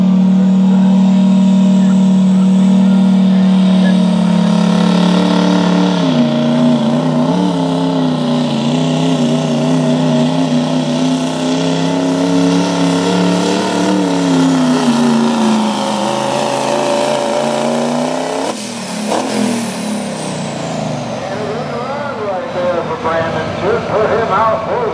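A Duramax diesel pickup roars under full load during a truck and tractor pull, a loud, sustained engine bellow with shifting pitch, and an announcer talking over it.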